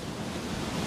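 Sea waves break on the rocky shore of the Rame Peninsula coast, a close, continuous wash of surf with wind noise across the microphone and no voices.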